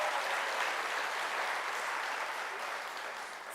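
A graduation audience applauds in a large hall, a steady wash of many hands clapping at moderate, somewhat distant level, holding even throughout before a sudden bump at the very end.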